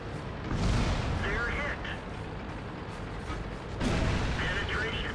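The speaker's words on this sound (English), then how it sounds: "I use my repair kit on my gun and unload the rest of my magazine into the E75." Tank cannon shots from an E75-facing autoloading AMX 13 90 in World of Tanks, two heavy booming blasts with rumbling mechanical tails, a few seconds apart, over a steady game background.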